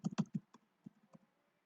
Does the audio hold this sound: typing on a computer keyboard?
yes